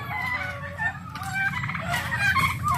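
Pet roosters fighting on a farm, with loud, close clucking, squawking and crowing-like calls overlapping continuously through the short moment.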